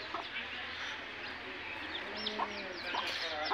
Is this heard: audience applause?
no